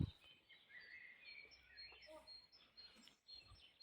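Birds sing in a quiet forest, with faint scattered chirps and thin high calls from a distance over soft ambience.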